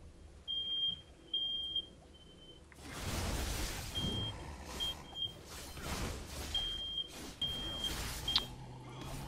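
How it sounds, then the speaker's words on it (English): A fire alarm sounds a string of short, shrill electronic beeps in irregular bursts, partly covered by a loud whooshing rumble. "you turn off the fire alarm, please?"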